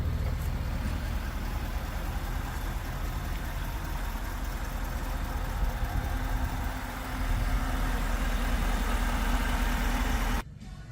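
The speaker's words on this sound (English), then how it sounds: "The truck is running, so it's very quiet." A 2024 Ford F-450 Super Duty Limited dual-rear-wheel pickup idles close by, a steady low diesel rumble that holds even for about ten seconds before cutting off abruptly.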